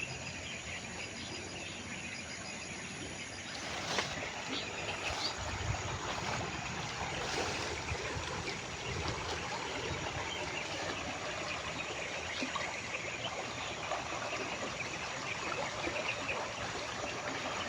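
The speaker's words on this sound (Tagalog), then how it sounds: "Ito na pong sapa tol." Forest stream flowing with a steady, soft wash of water, accompanied by faint insect chirping and occasional nearby rustling.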